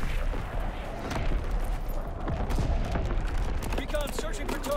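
Artillery in a video game firing for full effect, a dense, continuous barrage of close, loud blasts and rapid gunfire, with a voice briefly audible over the din.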